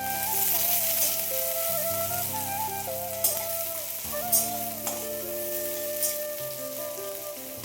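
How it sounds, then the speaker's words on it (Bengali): Chopped onions fry in hot mustard oil, giving a steady, close sizzle with occasional soft stirring knocks, while background music plays over it. "তারপরে বেশ খানিকটা পেঁয়াজ কুচি দিয়ে দিচ্ছি।"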